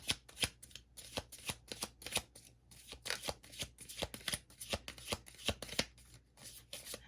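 Tarot cards are shuffled by hand, a quick run of soft riffling flicks and slaps repeating in bursts, close and fairly quiet.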